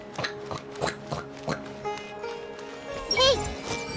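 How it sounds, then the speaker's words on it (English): Barefoot footsteps of a character in Genshin Impact, a regular series of about six soft, evenly spaced steps, then a brief high vocal sound near the end over a light tonal background. "Listen to my footsteps with no shoes."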